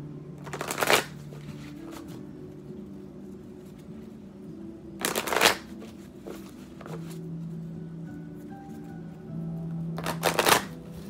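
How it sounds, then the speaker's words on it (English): Tarot cards are shuffled by hand in three short, crisp bursts of riffling, close and clear, separated by quiet pauses with faint handling noises between them. "Let me go ahead and mix up cards a bit for my Scorpios"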